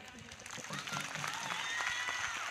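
An audience claps at a Christian prayer meeting, a scattered ragged applause that grows and holds at moderate loudness while a preacher's voice carries over it.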